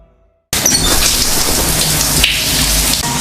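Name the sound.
heavy rain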